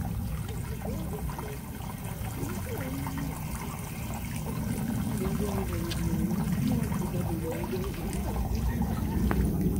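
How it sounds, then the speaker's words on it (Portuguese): Water trickles and flows steadily in a lake inside the Santa Luzia cave, a continuous low wash that swells slightly partway through, with faint bubbling, heard close up and alone without talk. "Eu vou colocar a câmera mais perto aqui para ver se você consegue ouvir o barulhinho da água"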